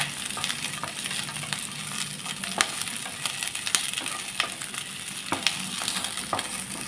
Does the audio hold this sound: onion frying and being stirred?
yes